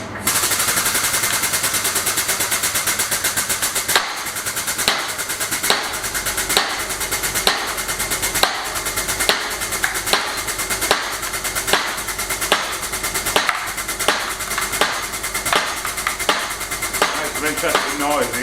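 A log splitter runs up close, hammering out a loud, fast, even train of sharp knocks that carries on without a break.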